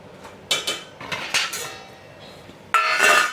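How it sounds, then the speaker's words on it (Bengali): Bottle gourd being sliced very thin for dal, a knife clicking against a board in a few sharp bursts with a louder run of chopping near the end, no talk. "দেখো আমি কীরকম পাতলা পাতলা করে কাটছি এটাকে আরও পাতলা পাতলা করে এইভাবে কুঁচুতে হবে"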